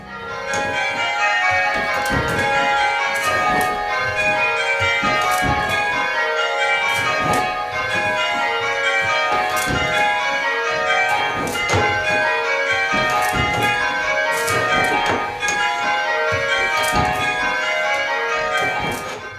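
Church bells ringing changes, likely from a bell simulator used for practising methods and touches on up to 24 bells, with dense overlapping strikes in a steady, continuous peal at even loudness throughout.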